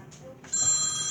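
A telephone bell rings briefly after a short pause, one clear electronic ring at close range with a faint voice before it.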